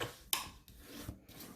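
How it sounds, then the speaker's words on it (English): A tool burnishes score lines on paper for a treat pouch, giving a few short, close scraping rubs with small gaps between strokes. "all we're going to do is simply burnish our score lines"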